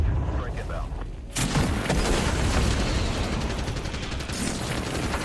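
A heavy airstrike blast in a battle royale video game, erupting suddenly as a loud broadband boom and then rolling on as sustained rumbling, crackling debris and distant gunfire, dense and continuous to the end.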